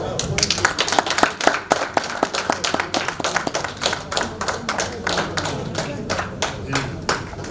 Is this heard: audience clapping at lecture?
yes